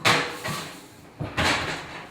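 An oven door is opened and later shut as food goes in to bake at 350 degrees, giving two distinct clunks about a second apart, each followed by a short rattle, close by with no talking.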